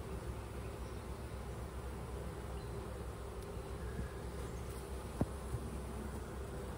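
Honeybees buzz steadily throughout a hive inspection, a dense continuous hum close by with a brief sharp knock partway through.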